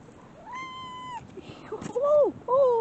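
A black cat meowing up close outdoors: a long drawn-out meow, then after a short pause two more rising-and-falling meows, one after another.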